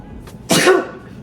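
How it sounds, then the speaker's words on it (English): A single sharp sneeze set off by black pepper while cooking, a brief burst following a small breath intake, fairly close and loud against quiet room background. "Black pepper has me sneezing."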